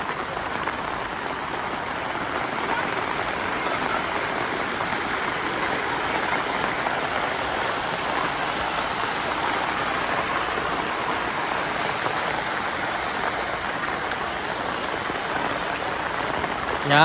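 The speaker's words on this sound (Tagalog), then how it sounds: "medyo lumakas yung agos ngayon kasi ang lakas din ng ulan eh." A river swollen by heavy rain rushes past a riverside campsite, its strong current making a loud, even roar that holds steady throughout with no talking.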